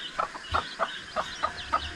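Farm chickens cluck in a short, fairly regular series of about six clucks, moderately close but soft, with quiet background between calls.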